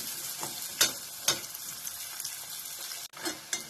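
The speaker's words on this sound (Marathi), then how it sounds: "आता तेल गरम झालेलं आहे. आता आपण कांदा घालायचा." Onions drop into hot oil for a Maharashtrian cluster bean bhaji and fry with a close, steady sizzle and crackle, punctuated by a few sharper spatters and stirring taps, with no speech.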